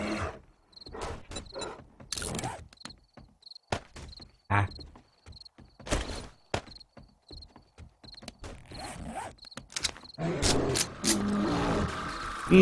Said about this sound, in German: da ist ein Bär dabei.